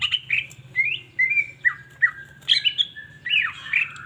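A green leafbird sings a continuous, varied stream of bright whistled and chattering phrases close by, with a low hum underneath.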